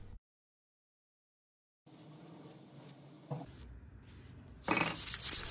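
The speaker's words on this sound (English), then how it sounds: "so I'm just sanding it down nice and flat" After a brief silence, a steady scratchy rubbing of sanding dried wood filler on a dresser continues, growing louder and harsher near the end.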